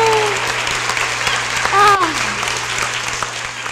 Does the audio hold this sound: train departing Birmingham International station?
no